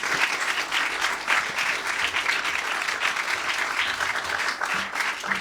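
Steady, dense applause from a large audience at a creative talk event, welcoming a speaker to the stage; loud and continuous throughout with no gaps.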